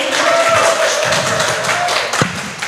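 Applause from a student audience at a campus election debate, a broad steady wash of clapping held at an even level throughout, with a single sharper thump near the end.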